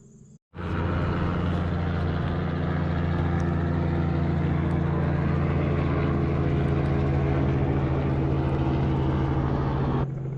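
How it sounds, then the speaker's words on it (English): A helicopter lands roughly ten feet away during a deer hunt in New York, giving a loud, steady rotor and engine drone that starts abruptly and runs continuously with no talking. "There's literally a helicopter that's landing like 10 feet away"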